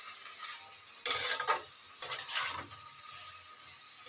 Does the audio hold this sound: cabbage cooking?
yes